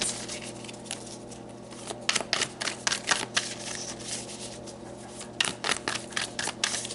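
Tarot cards being shuffled up close, quiet papery riffles and taps coming in irregular bursts, growing busier toward the end.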